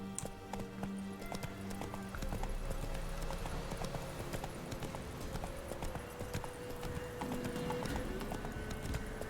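Hooves clip-clop steadily as the horse Roach gallops in The Witcher 3: Wild Hunt, with a whinny and game music and effects layered underneath throughout.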